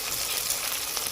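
A chicken cutlet mixture of chopped chilli, turmeric, chilli powder, garam masala, coriander and cumin sizzles in a pan: a steady, dense, close frying hiss with no voices.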